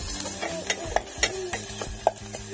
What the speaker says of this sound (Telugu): ఇప్పుడైతే మనకు తాలింపు రెడీ అయిపోతుంది.